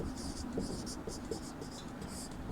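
Chalk or marker writing on a board during a Sanskrit class, a steady scratchy stroking with short rhythmic bursts, close and faint, with a voice speaking softly underneath.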